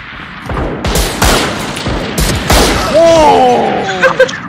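Marshall sniper rifle shots in a video game, several loud sharp cracks spaced across the stretch with reverberant tails, followed by rising whistling in-game effects near the end.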